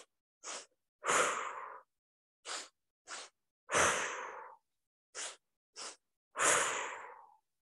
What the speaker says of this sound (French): Si vous entendez mes respirations